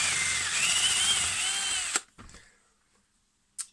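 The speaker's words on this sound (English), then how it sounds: "So just drilled 12mm hole in the end there" A power drill bores a 12mm hole into the end of a turned wooden cat-head magic wand, whining steadily and close for about two seconds before stopping, followed by a few faint knocks and a brief burst near the end.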